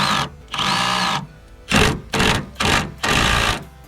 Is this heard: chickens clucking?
no